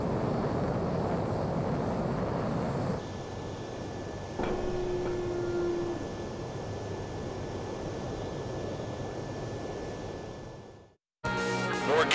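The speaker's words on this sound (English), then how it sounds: "Spare 15, you are cleared for takeoff." Fighter jet taking off in Ace Combat 7, a steady broad engine roar with a thin whine and a brief tone partway through, cutting to silence near the end before a short burst of different sound.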